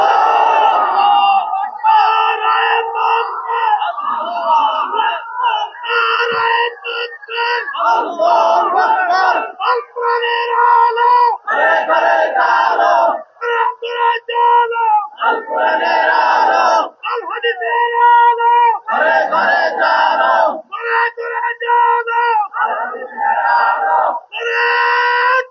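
A large crowd at an outdoor Islamic religious gathering roars 'Allahu Akbar' in unison in answer to a takbir call, loud and sustained, swelling in repeated bursts of massed chanting voices.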